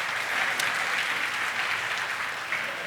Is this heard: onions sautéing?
no